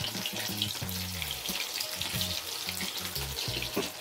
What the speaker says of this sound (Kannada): ಈ ರೇಂಜಿಗೆ ಚೆನ್ನಾಗಿ ಫ್ರೈ ಆಗ್ತಾ ಇದೆ